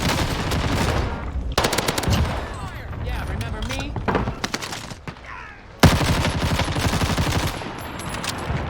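Rapid automatic gunfire in a video game, repeated bursts of loud shots with brief pauses between volleys, while a player talks over the action.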